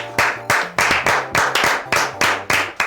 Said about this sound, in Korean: 먼저 박수 한번 치시죠